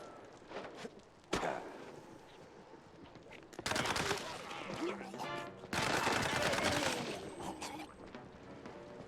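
Video-game gunfire in a few sharp bursts and single shots, fairly faint and spread out among footsteps and ambient game noise.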